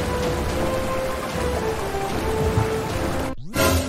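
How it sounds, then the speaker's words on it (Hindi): Heavy rain from a sea storm in a cartoon pours down as a dense, loud, continuous hiss with low rumbling underneath, broken near the end by a brief dropout before the downpour resumes. "तभी अचानक बहुत तेज समुद्री तूफान आने लगता है"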